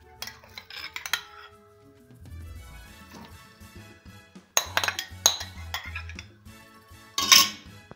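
Cocoyam goes into a pot of Nigerian bitter leaf soup with close metallic clinks and knocks of a spoon against the pot, soft stirring between them, and a few sharp clatters near the end.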